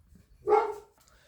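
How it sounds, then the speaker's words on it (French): A single dog's bark, one short burst at moderate distance, with quiet before and after and no talking. "c'était mon chien qui aboyait"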